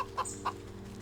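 Chickens clucking in the video game Wytchwood, two short clucks in quick succession over a steady low hum.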